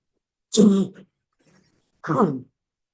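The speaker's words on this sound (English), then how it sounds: "excuse me for my cough." A lecturer's cough during a Bible class, two short rough bursts about a second and a half apart, close and fairly loud against an otherwise quiet room.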